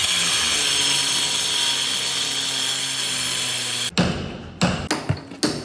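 An angle grinder runs during steel window installation on a house wall: a steady, loud, harsh whir for several seconds, then it cuts out, followed by a string of sharp knocks and thuds.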